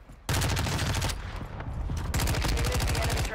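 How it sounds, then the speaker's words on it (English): Rapid bursts of automatic gunfire in a first-person shooter video game, loud and close, two dense volleys split by a brief lull. "How do I miss all those shots?"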